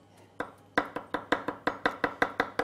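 A knife chops tuna belly with spring onion for negitoro tartare on a board, producing a fast, even series of close crisp thuds, about a dozen strikes in quick rhythm.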